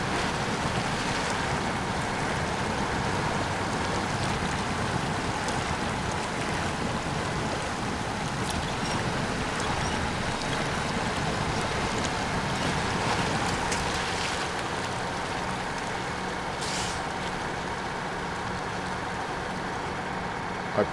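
Truck in SnowRunner fording a river, a steady wash of churning water and rushing flow with a low engine rumble underneath, continuous and fairly loud throughout with no talking.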